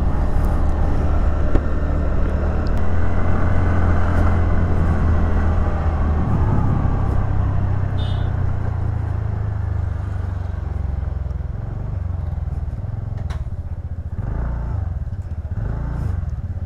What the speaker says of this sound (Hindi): वो मेरा बाइक चला रहे हैं एंड मैं उसका स्कूटी